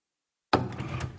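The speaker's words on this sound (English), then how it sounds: "Mrs. Liu, open the door" A door is opened after half a second of silence, a sudden close thump followed by a short rattling, scraping swing that fades over the next moment, with no talk.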